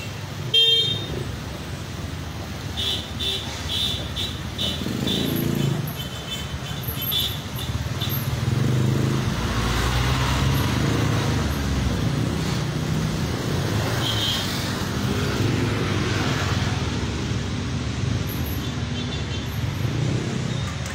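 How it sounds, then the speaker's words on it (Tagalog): Cars crawl along a long traffic jam, heard from a bike on the road: a continuous engine and road rumble with scattered short honks from car horns, some near and some farther off. "Kaya pala siya medyo mahaba ang traffic kasi."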